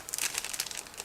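A plastic bag holding vinyl tires for an ICM 1/35 scale model kit crinkles and rustles as it is handled close up, in continuous crisp bursts with no voices.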